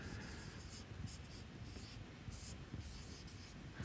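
Chalk or marker strokes on a classroom board during an air-conditioning lecture, a quiet series of short scratchy bursts in an irregular rhythm, with faint room noise and no talking.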